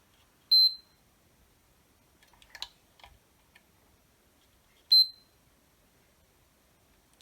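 Multimeter on a solar inverter repair bench giving two short, sharp high beeps a few seconds apart while testing diodes, with faint clicks and handling sounds in between in a quiet room.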